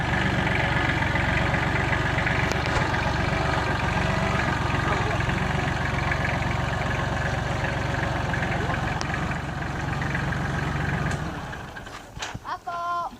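A tractor engine idles with a steady, loud mechanical rumble for most of the stretch before dropping away near the end, where a few brief clanks are heard.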